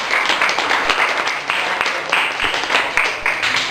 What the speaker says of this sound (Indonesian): Berikan aplaus untuk kelompok durian.